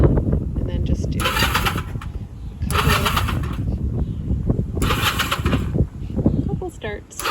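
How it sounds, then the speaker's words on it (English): A motorcycle engine starts in short bursts, each attempt a loud cranking roar that fades back, with a person talking throughout. "Turn the bike on."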